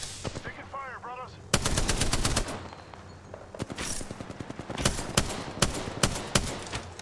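Automatic weapon fire in an Apex Legends Arena match, dense bursts of rapid shots with sharp cracks, loud and close, with a brief game tone early on and scattered single shots toward the end.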